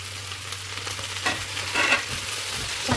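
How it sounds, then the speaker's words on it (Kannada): Cauliflower florets for aloo gobi sizzle and frying in a pan, a steady crackle with a few louder bursts as the pieces are stirred in, no voices. "ನಾವು ಗೋಬಿ ಹಾಕೊಳ್ಳೋಣ"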